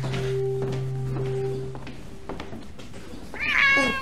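A cat meows once near the end, a clear rising call after quiet rustling and a few soft knocks, close and fairly loud in an otherwise still room.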